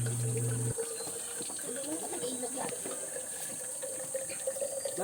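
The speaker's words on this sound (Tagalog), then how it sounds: "Umiigib na kami guys at yung aming lalagyan ng mineral water na empty bottles" Spring water from a holy spring at a grotto pouring into empty mineral water bottles, a steady close splashing and gurgling flow that shifts in pitch as the bottles fill, with a loud burst of running water at the start.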